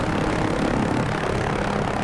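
An OH-6A light helicopter flies in the DCS flight simulator with a steady, loud engine and rotor drone that holds without a break and has no talk over it.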